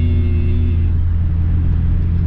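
Steady, loud cabin drone of a 1988 VW Gol GTS pulling uphill on a mountain road at night, low engine rumble with road noise, a faint rising tone near the end.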